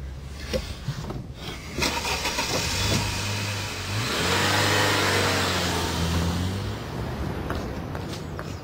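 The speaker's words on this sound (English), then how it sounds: "Are you going to start this engine or what?" A car engine cranks and catches, then runs with a steady mid-pitched hum and a slight rev, loud and close with no talking.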